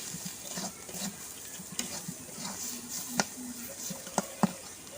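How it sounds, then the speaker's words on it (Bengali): A spoon stirs turmeric powder, salt and spices frying in oil in a pan, giving a soft continuous sizzle with light scraping and a few sharp clicks against the metal. "হলুদ গুঁড়ো, আমি আর কিছুক্ষণ নাড়তে থাকবো"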